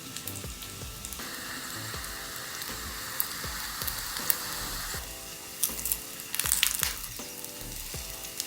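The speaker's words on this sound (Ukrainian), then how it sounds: "треба смажити на маленькому вогні з обох сторін під закритою кришкою" Steady sizzling and crackling of dumplings frying in a covered pan over low heat, with occasional sharper pops and spatters, continuous throughout with no talking.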